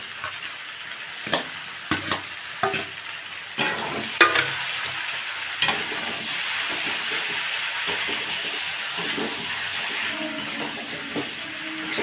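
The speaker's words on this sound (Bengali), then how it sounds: "এই যে এবার চিংড়িগুলোও দিয়ে দেব।" Prawns fry in hot oil with young jackfruit in a home kitchen, giving a steady close sizzle and hiss. Knocks and scrapes from stirring break in several times, and the frying grows louder and fuller after a few seconds.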